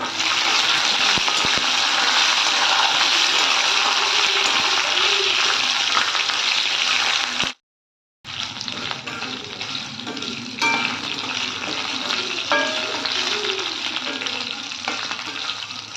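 Green chillies frying in a pan with cumin, giving a loud, steady sizzle that breaks off briefly midway and then continues, with faint clinks of stirring.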